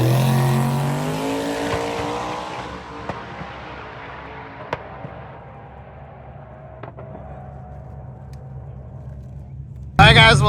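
Drag race cars at Sick Week roar off the line, a loud rising engine howl that fades into the distance over several seconds, followed by a faint lingering drone and a sudden loud burst at the end.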